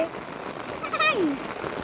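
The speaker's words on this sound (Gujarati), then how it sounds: "વરસાદ ચાલુ થઈ ગયો છે" Rain falls in a steady, dense hiss close by, with a brief faint voice and a short whistling tone rising above it.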